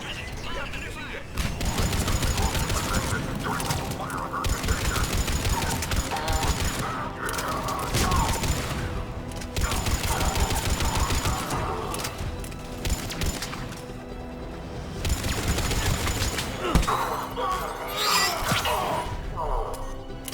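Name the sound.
gunfire at a checkpoint in video game Mass Effect 3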